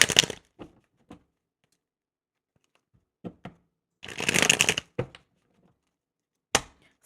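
Tarot cards shuffle in short crisp bursts of riffling and tapping, one longer flurry in the middle and several brief snaps spaced by silence, close and fairly quiet.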